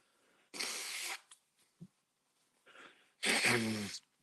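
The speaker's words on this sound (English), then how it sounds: "I'm so sorry, you guys, that I'm blowing my nose" Two close, forceful bursts of nose blowing, the second longer and honking, with a quick sniff and faint rustling between.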